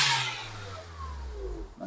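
Engine of a 2021 Wuling Cortez revved to blow out carbon deposits, a steady loud rumbling drone with rising and falling pitch sweeps, dropping off briefly near the end.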